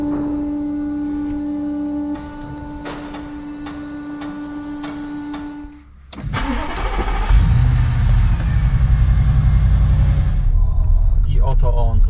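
Porsche 718 Cayman GT4 RS starting up: a steady electrical hum gives way to a sharp crank and catch around the midpoint, then a loud, dense idle rumble that swells and holds to the end.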